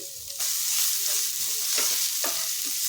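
Green garlic filling for Kathiyawadi stuffed millet rotla sizzling in a pan, a loud bright fry starting abruptly and holding steady, with a few close stirring scrapes and knocks, no voices.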